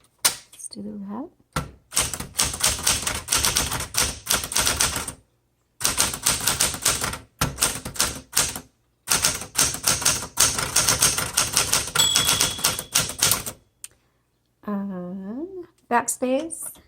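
A 1968 Smith Corona Super Sterling manual typewriter clacks in quick bursts of keystrokes separated by pauses, close and crisp, with someone briefly speaking at the start and end.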